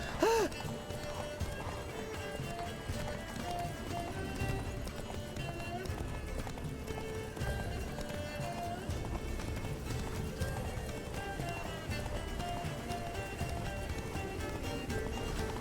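Roach the horse galloping in The Witcher 3: Blood and Wine: a steady, rhythmic beat of hooves that continues the whole time, with people talking over it.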